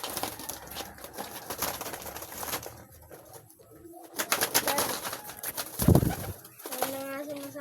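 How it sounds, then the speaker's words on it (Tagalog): Pigeons coo in a few low, throaty bursts amid an outdoor scene, with voices and someone speaking around them and a loud burst near the end. "Tingnan nyo mga kalapatids"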